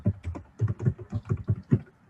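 Rapid keystrokes on a computer keyboard, about a dozen soft clicks in an uneven burst over two seconds, close and alone.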